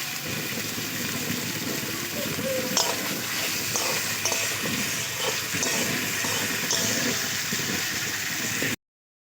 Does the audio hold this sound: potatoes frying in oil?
yes